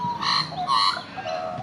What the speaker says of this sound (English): Magpies have a complex song which can vary as much as 4 octaves in pitch.